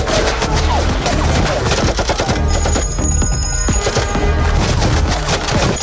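Rapid bursts of strafing automatic gunfire from an AK-47 in an animated scene, loud, dense and continuous with rattling repeated shots.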